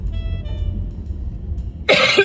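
One sharp, close cough bursts out near the end, after a stretch of low background rumble with a faint high whine.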